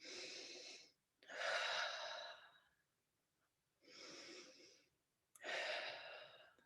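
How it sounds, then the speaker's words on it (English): Two deep breaths close to the mic, each a long hissing inhale followed by a slower exhale, quiet and calm with short silent pauses between them. "take a few deep breaths"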